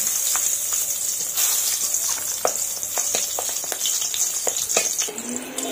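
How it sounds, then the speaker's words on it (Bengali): Salted, turmeric-rubbed eggplant slices fry in hot oil with a steady, close sizzle and hiss, broken by scattered sharp spatters and pops throughout, with no talking. "এবার বেগুনগুলো ভেজে নেব"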